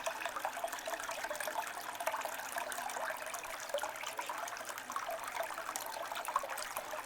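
Water runs steadily over a silicone sluice mat fitted with mini nugget traps during fine gold recovery. It makes a soft, continuous trickling wash with small splashes, heard close and faint, with nobody talking.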